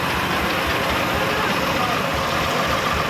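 A truck engine idles in a traffic jam near a busy cattle market in Alamdanga, a dense, steady low rumble filling the scene under murmuring background voices.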